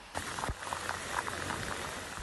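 Heavy, steady rain pours during flooding in Hong Kong, a continuous dense hiss of falling water with a few louder splashes, fairly close and without voices.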